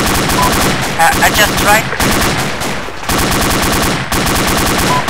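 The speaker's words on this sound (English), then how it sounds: "Alright, opening fire." Medium machine gun firing in Arma, a guerrilla firefight: loud, sustained bursts of automatic fire fill the whole stretch with only brief breaks, and a voice speaks over the shooting.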